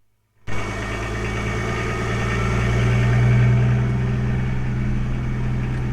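A car engine kicks into life after trouble with a flat battery, then settles into a steady, close idle with a low throbbing hum and faint rattle that swells slightly midway and holds.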